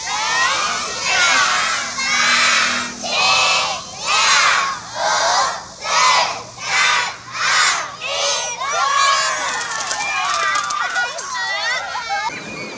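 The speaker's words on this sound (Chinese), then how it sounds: "现场笑声以及尖叫声则是毫不间断" Kindergarten graduates at a temple-front plaza shriek, laugh and shout in rhythmic surging waves during a water balloon fight celebrating graduation, loud and close, the crowd noise rising and falling before dissolving into continuous excited babble.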